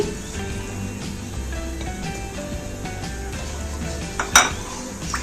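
Cumin seeds, fennel and cinnamon sizzle in hot oil in a pan over a low flame, a steady soft crackle with a few light metallic clinks of utensil against pan.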